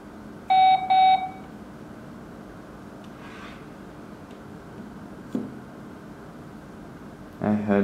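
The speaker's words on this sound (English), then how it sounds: "I heard the sound of beep." A Blurams Dome Lite 2 security camera emits two short electronic beeps during app setup, clear and close over a quiet background, followed later by faint clicks and a brief tone.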